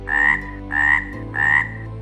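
A pond frog croaks three times in an even rhythm, each call a loud, close, buzzy croak of about half a second separated by brief pauses, heard alone with no talking.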